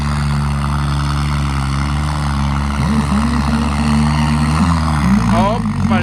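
A tractor engine drones steadily and loudly throughout a tractor race, its low hum rising and wavering in pitch as the machine picks up speed. A voice can be heard over the engine.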